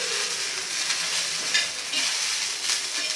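Green chillies roast in a hot pan with a steady, bright sizzle and occasional stirring scrapes, close and continuous with no talking.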